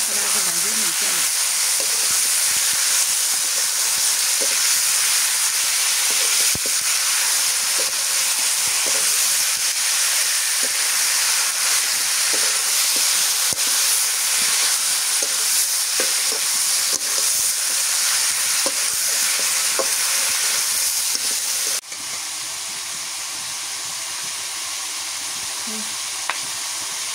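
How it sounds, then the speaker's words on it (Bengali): Salted chicken being stirred and fried, a loud dense sizzle and hiss running steadily throughout with scattered scrapes of stirring, dropping somewhat quieter for the last few seconds. "নুন দিয়ে এবারে নাড়াচাড়া করে আগে ভাজিয়ে নিতে হবে।"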